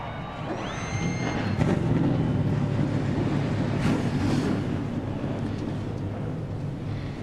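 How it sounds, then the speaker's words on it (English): Forty NASCAR Xfinity Series race cars fire up their engines at Talladega Superspeedway, a massed low roar swelling and holding steady across the track, with wind buffeting the microphone. "40 NASCAR Xfinity Series cars have come to life."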